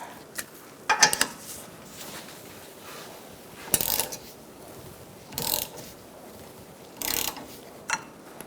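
A ratchet cranks in short bursts while lower control arm bushings are replaced on a 2002-2006 Honda CR-V, with several separate clusters of rapid clicking separated by quiet pauses and no speech.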